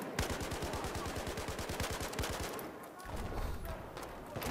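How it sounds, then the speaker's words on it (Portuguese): Rapid automatic gunfire in the video game Battlefield 4, a fast regular burst of shots for over two seconds followed by more scattered firing and game noise. "Caraca, eu tomei tiro da direita."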